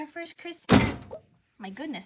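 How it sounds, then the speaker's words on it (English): A ball python's cage door struck by hand, one loud, sharp knock in the middle of a short stretch, with a person talking close by before and after it. "I just hit the one of her cage like this, the cage door, so that's what that noise was."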